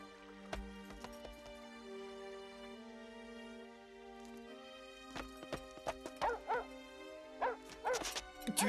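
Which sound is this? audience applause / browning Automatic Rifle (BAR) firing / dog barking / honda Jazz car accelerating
dog barking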